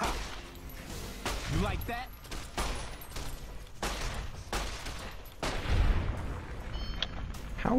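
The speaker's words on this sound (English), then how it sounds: "I shot him hard enough in the neck that his head fell off" Gunshots in the video game Fallout New Vegas, a series of sharp, irregular bangs with some heavier booms, mixed with someone talking throughout.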